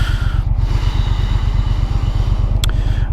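A 2018 Triumph Bonneville T120 motorcycle accelerating with the throttle twisted open, a loud, close, steady pulsing engine drone that holds strong throughout with no talking.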